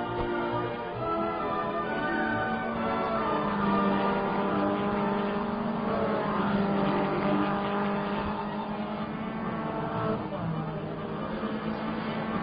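Race cars at the 24 Hours of Le Mans, a continuous loud engine roar with shifting pitch as cars pass and recede, steady and busy throughout, with a narrator talking over it.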